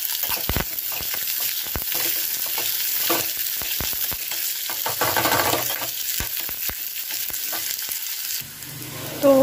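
Garlic and cumin fry in a pan while being stirred, a steady close sizzle broken by repeated scraping strokes that carries on for most of the stretch, then briefly changes near the end.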